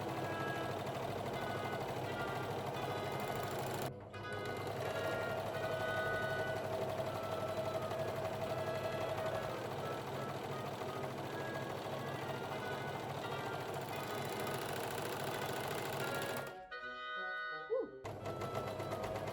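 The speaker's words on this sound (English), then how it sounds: "Next, I also did a rolled hem on the 2 side edges. And switched back to normal overlocker mode." An overlocker runs a rolled hem along the side edges of fabric for an Arcadian shepherdess costume, a steady close whirring hum that continues almost unbroken, with two brief pauses.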